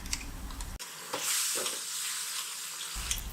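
Puréed tomato gravy sautés in hot oil, giving a steady close sizzle and hiss with a few brief stirring scrapes.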